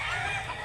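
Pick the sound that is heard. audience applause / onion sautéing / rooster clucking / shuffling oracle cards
rooster clucking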